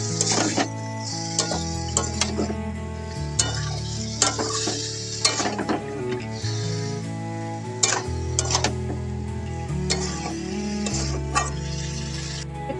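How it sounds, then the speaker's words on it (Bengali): Marinated prawns are stirred around in a pan, with soft scraping and light sizzling ticks running steadily underneath a continuous bed of background music. "এই যে মাখিয়ে রাখা সমস্ত এগুলো দিয়ে একটু এদিক ওদিক করে নেড়ে নেবো"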